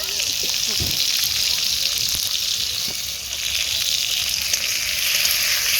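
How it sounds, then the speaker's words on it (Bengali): Chopped onions frying in oil for a Bengali egg curry, giving a steady broad sizzle with faint scraping stir strokes throughout, fairly close and without talk. "তারপরে দেখো পেঁয়াজটা একটু ভাজা ভাজা করে নিলাম"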